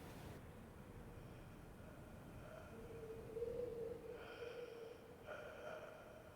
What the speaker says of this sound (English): I can hear really loud snoring